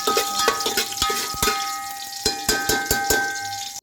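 Whole cloves, cardamom, cinnamon and chopped green chillies fry in hot oil with a crackling sizzle, punctuated by sharp, ringing clanks of a spoon against the pan at an irregular pace.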